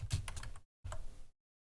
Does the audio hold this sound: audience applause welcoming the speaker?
no